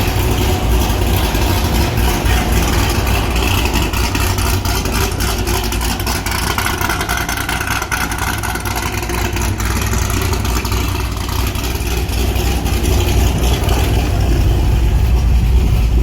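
A Chevrolet Corvette C6 Z06 with aftermarket headers, running slightly lean, idles loudly and continuously, a deep rumbling throb with a raspy edge that stays steady throughout, with no voices.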